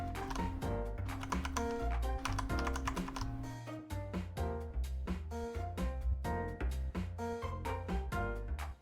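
Rapid, dense typing on a computer keyboard, keys clacking continuously and loudly throughout, layered over a steady musical background.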